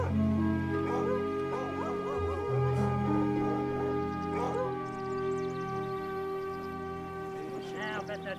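A pack of hunting dogs bays and barks in the distance in an outdoor rural scene from a 2000 period film, with overlapping yips and howl-like calls ringing over a sustained musical score.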